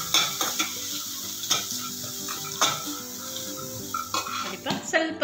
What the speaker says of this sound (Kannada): ಇದು ಮೊಸರನ್ನಕ್ಕೆ ಒಗ್ಗರಣೆ ಆಯಿತು